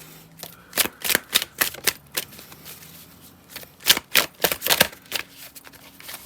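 Tarot cards are shuffled in several quick bursts of riffling and slapping, close and crisp, with brief pauses between rounds and no talking.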